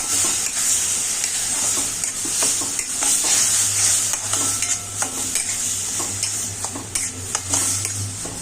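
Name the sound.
stirring grated cucumber into roasted rice semolina in pan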